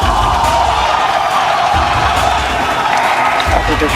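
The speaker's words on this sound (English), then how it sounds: "Everybody's cheering." A large crowd at a rocket launch cheers and whoops continuously, loud and dense throughout, with scattered shouts rising above the roar.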